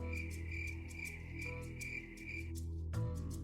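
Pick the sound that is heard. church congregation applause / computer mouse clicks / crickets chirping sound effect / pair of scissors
crickets chirping sound effect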